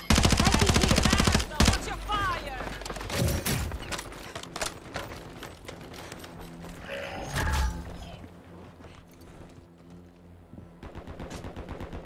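Rapid automatic gunfire in a video game firefight, loud bursts of shots at the start, then scattered shots, clanks and crashes with a second flurry of fire later.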